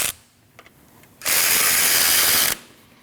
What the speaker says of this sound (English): Now you want to tighten your adjuster till your belt gets tight.